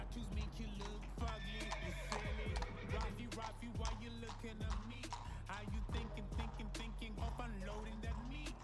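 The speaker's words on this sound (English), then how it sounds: "Horse." A white horse whinnies loudly while hooves clip-clop in a steady, continuous rhythm throughout, with a voice briefly audible.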